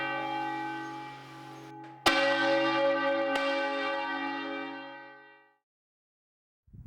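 Bells of the Santa Maria de l'Assumpció tower in Ontinyent ring out, a sustained resonant tone struck again sharply at about two seconds and once more, loud and full, then decaying slowly into silence.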